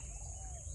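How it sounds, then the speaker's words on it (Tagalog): A faint, thin bird chirp sits over a steady low outdoor hum, with soft insect-like buzzing in the background. "May ibon"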